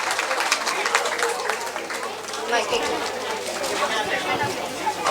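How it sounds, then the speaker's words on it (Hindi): An audience at a national-level children's mental math championship applauds talented young competitors, with dense steady clapping and crowd chatter throughout while a voice talks over it. "तालियां बजा दीजिए हमारे इन टैलेंटेड स्मार्ट बच्चों के लिए।"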